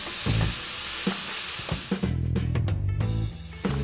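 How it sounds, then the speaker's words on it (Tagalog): Pork for binagoongan sizzles loudly in a hot pan while being stirred, with a steady hiss broken by scraping stirs, then a lower, denser fry after a shift midway. "At halu-haluin lang natin ito ulit."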